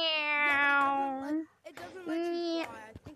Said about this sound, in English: And then you go meow, meow.